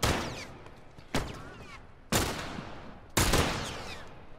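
Gunfire in The Last of Us, four separate loud gunshots about a second apart, each cracking sharply and then echoing away before the next.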